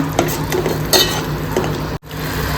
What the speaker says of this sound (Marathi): थोडंसं पाणी घालून हे परतून घेऊया